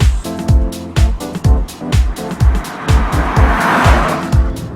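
A 2012 Toyota Camry on the move, its engine and road noise loud and close, with a rhythmic series of heavy low pulses repeating about twice a second and no voices.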